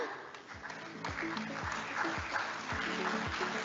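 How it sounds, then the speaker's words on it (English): Audience applause for a panel of speakers at a sustainable urban development conference session, steady and moderately distant, with a voice speaking over it. "Please give a round of applause to them"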